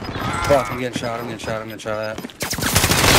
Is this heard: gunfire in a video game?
yes